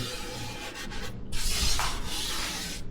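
Sandpaper rubs steadily across rough plywood on a sailboat project, a close, continuous gritty scraping with slight back-and-forth swells and no talk.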